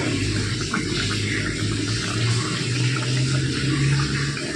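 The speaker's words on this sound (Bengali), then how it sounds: "ওই মাছের থালা ধোয়া একটু জল মামনি দিল সামান্য" Water from rinsing a fish plate is poured into a cooking pot of kohlrabi curry: a steady, continuous splashing and trickling that holds at an even level, close and alone.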